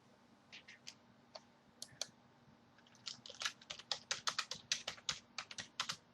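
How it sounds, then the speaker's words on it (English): Keys on a computer keyboard click faintly at first, then quicken into a steady run of crisp, close taps, a brisk stretch of typing with no voices. "I am typing."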